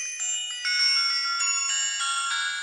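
A Q50 kids' GPS smartwatch rings to be found, a bright electronic ringtone chiming continuously, its tones stepping through a repeating melody, steady and fairly close with no voices.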